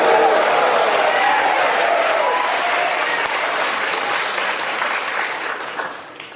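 A studio audience at a televised talk show claps and cheers loudly and continuously, with faint voices mixed in, before the applause tapers off toward the end.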